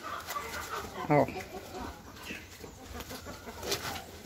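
Chickens and young fryers being fed leaves, with a short, faint clucking call from a bird close by, a quieter cluck afterward, and a man's brief word over the low farmyard background.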